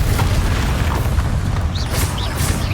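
Confringo, a blasting spell from the Hogwarts Legacy video game, goes off as a loud, sustained rumbling boom. Crackling bursts and short whistling tones are layered over the blast, and no one speaks.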